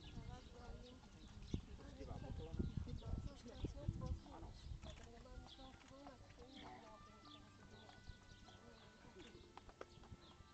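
Hooves of a horse trotting through a dressage test at an outdoor show, a soft, faint rhythmic clip-clop under background murmur and people talking.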